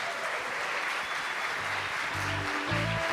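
Ceremony audience applauding sponsors at a programming contest opening event, a steady wash of many hands clapping across the whole stretch, with a few low tonal thumps toward the end.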